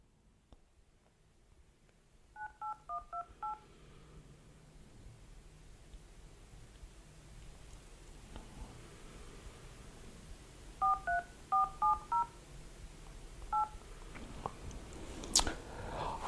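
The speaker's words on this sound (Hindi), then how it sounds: "अब हम फोन मिलाते हैं।" Two quick bursts of phone keypad tones, a rapid run of short beeps near the start and another cluster later, dialing a number over a faint room hiss with no talk.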